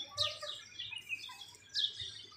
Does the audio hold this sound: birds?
yes